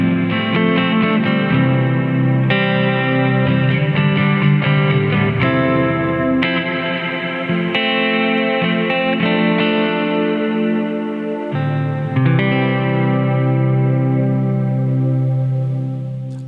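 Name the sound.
guitar through MXR M300 reverb pedal, mod mode with modulation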